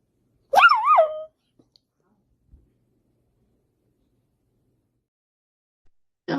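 A dog gives one close, wavering bark-howl with a whining, vocal quality, followed by long near-silence and a faint sound at the very end.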